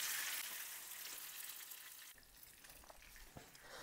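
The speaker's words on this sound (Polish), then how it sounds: "Gdy olej się zagrzeje, na patelnię wykładamy kotleta i smażymy go do uzyskania złotego koloru." A breaded pork cutlet fries in hot oil in a pan, giving a steady, close hiss of sizzling that eases slightly toward the end.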